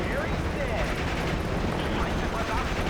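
Game combat from Steel Division: Normandy 44 at Utah Beach, with a 37mm gun firing among dense, continuous battle noise, shots and rumbling blasts blending into a steady loud din throughout.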